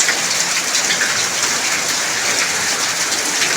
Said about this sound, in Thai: แต่ฝนก็ยังตกหนักอยู่